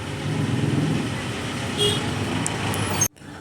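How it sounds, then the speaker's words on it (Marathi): Steady roar of vehicles passing along the Mumbai–Goa highway beside a riverbank in the Konkan countryside, a continuous rumbling wash of traffic with a faint horn-like toot near the middle, cutting off abruptly before the end. "रोडवरून गाड्या जातात त्याचा आवाज पण खूप येतोय।"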